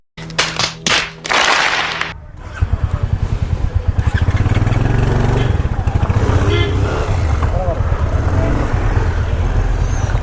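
A Royal Enfield Hunter 350 motorcycle starts on a ride toward Athirappally forest: a few sharp clattering bursts, then the single-cylinder engine settles into a loud, steady thumping idle close by.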